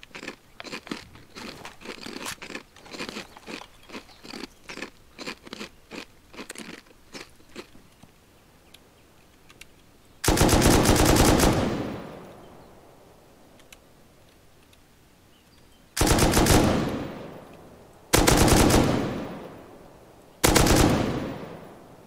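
Gunfire in a shooting video game: a stretch of rapid, evenly spaced automatic shots, then several loud, sustained bursts of heavy fire separated by short pauses, close and with no talking.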